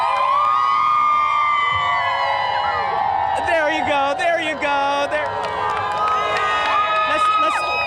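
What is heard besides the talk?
parade crowd cheering at WorldPride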